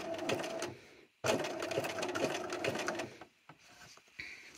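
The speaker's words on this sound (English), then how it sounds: "So this is a zigzag stitch." A domestic sewing machine stitching a zigzag pattern to attach a patch, running in rapid loud bursts of needle clatter with a brief pause near the start and short stop-start runs at the end, alone without talk.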